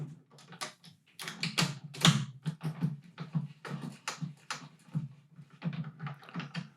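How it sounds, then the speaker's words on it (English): Light metallic ticks and clicks from tension rods being turned on a British Drum Co. tenor drum, quiet and close, in irregular quick bursts. "I'm just going to give each of these tension points just a wee turn, just to get them down."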